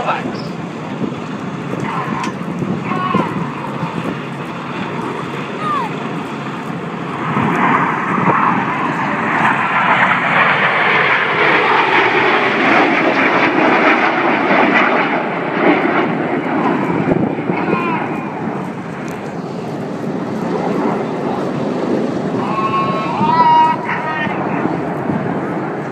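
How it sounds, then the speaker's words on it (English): Red Arrows jets performing a formation flying display at the Duxford airshow, a broad continuous roar of jet engines rising and falling as the aircraft pass, with a commentator talking over it throughout. "Inside pilots perform tight, match barrel rolls to the outside of the formation in the rollbacks."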